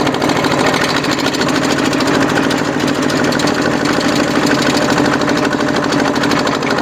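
Modified tractor fitted with a rotary tiller working slowly in first gear in a cassava and sugarcane field, a loud, steady, close engine drone with rhythmic knocking and vibration throughout, no speech.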